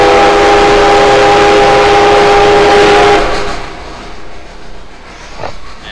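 Locomotive whistle in a video game: a loud, sustained multi-tone horn blast for about three seconds, then cutting off into rumbling train noise with a faint knock.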